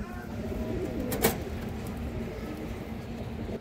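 Pigeons coo softly in a loft amid steady background noise, with one sharper flutter or call midway and faint talk nearby.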